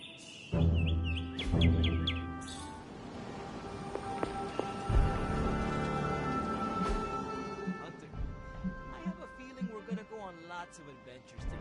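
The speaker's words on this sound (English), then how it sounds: "Those birds, with the wings and the cool colors." Bright, chirping bird calls in Marvel's Midnight Suns, heard in Lilith's Garden, rise near the start and return in short bursts over a steady wash of ambient game sound, with voices murmuring underneath.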